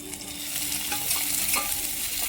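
Chopped onion fries in a pan for a pea curry, giving a steady, close hiss and sizzle with soft stirring scrapes throughout and no voices.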